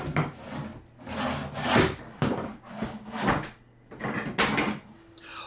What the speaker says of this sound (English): As the tool is driven underneath the flooring, the integrated wedge pries the board loose from the underlayment.